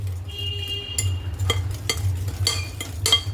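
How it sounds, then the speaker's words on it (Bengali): A whisk beating powdered sugar into eggs in a bowl, giving a series of light metallic clinks and scrapes against the bowl at an uneven pace over a low background hum. "এবার একটা হুইস্কের সাহায্যে চিনির গুঁড়োটাকে ডিমের সাথে ভালো করে"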